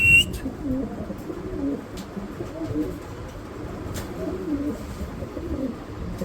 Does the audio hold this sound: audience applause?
no